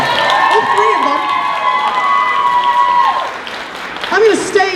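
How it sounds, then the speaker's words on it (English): Audience at an anime convention applauding and cheering, a loud crowd swell under a talking emcee's voice, with some shouts rising near the end. "giving them a wonderful round of applause"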